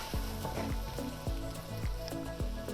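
Garlic sizzles in a frying pan holding beef and browned bits, a close, steady crackling hiss with faint ticks and pops throughout and no talking.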